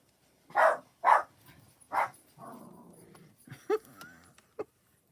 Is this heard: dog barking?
yes